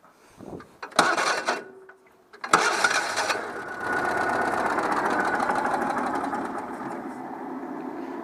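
A Citroën 2CV engine, after ignition repair work, sputters, catches after a couple of tries, then settles into a steady, buzzing idle close by.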